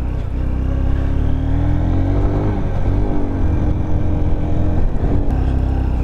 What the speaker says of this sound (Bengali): গাড়ির পিক আপই নিচ্ছে না, কখনো পিক আপ নিচ্ছে, কখনো একদম ছেড়ে দিচ্ছে, এগোতে পারছি না।